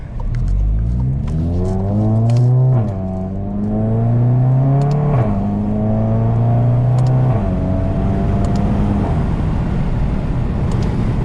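A turbocharged MK7 Volkswagen GTI fitted with a GTX3071R turbo accelerates hard through several gears, its engine note climbing loudly then dropping at each shift, close and continuous.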